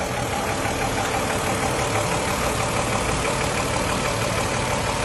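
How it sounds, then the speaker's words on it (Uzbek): Mercedes engine with automatic transmission idling in a GAZelle tow truck, a steady even rumble heard up close and continuously, with no talking. "Motor ishlashlar juda tekis ishlayapti, to'g'ri holatda."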